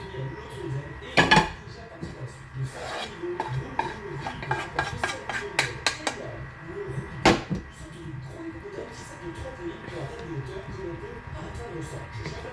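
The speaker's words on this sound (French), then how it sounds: "Il faut que ça soit bien mélangé." Potatoes and gratin mixture being stirred together in a baking dish with a utensil, giving repeated close clinks and scrapes against the dish in an irregular rhythm, with a person talking over parts of it.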